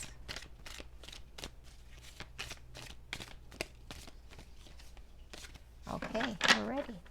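Rapid, evenly spaced riffles of tarot cards being shuffled close by, repeated crisp bursts, followed by a person starting to speak at the end.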